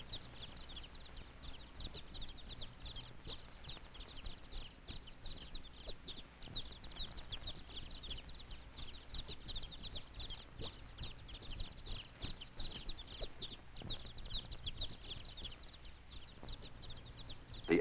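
Many baby chicks at a hatchery keep up a dense, constant chorus of high peeping, fairly faint, set against a low steady hum with no speech.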